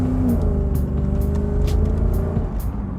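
A Jaguar XK8 V8 fitted with a valved exhaust line roars loud and close, holding a deep, rich rumble with a slight rise in revs and sharp hissy pops at regular intervals.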